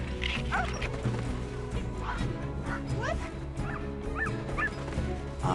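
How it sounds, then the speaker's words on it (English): Dogs bark and yip at a dog sport event, with sharp high barks and whimpers popping out repeatedly over a steady bustling background across the whole stretch. "You see tall dogs, small dogs, mixed breeds, pure breeds."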